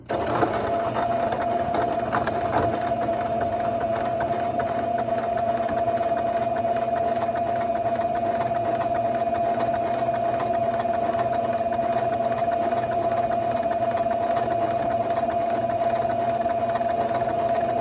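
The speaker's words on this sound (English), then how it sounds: "Foot's down, needles down, and I'm sewing." A sewing machine stitches a fabric mask in one long, unbroken run, its steady motor whir and needle hum holding even and close for nearly eighteen seconds with no voices.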